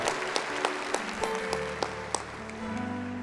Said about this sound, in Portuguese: a palavra de Deus precisa ser aplaudida